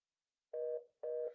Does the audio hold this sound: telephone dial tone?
yes